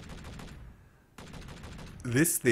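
An autocannon firing in a video game, bursts of rapid heavy shots with a short pause midway, followed by louder blasts near the end, with a faint voice underneath.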